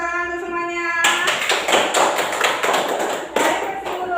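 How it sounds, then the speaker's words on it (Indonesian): Sixth-grade pupils in a classroom break into clapping, a burst of quick, uneven hand claps and taps that starts abruptly after a brief voice and continues close by. "Tepuk tangan untuk semuanya."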